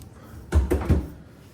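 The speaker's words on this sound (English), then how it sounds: "we have a freezer drawer that almost snapped back and hit me in the face" A freezer drawer on a GE fridge in a Disney Polynesian Village villa kitchen snaps back shut with a loud, close double thud and rattle, followed by quiet room tone.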